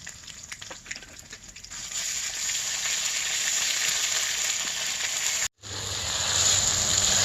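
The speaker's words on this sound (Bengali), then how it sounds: "আদা রসুন বাটাগুলো ভালো করে কষিয়ে নিলাম" Ginger and garlic paste fries in a pan over a clay stove while chicken haleem is being cooked, giving a steady, loud crackling sizzle that swells after a softer start and cuts out for a moment near the end.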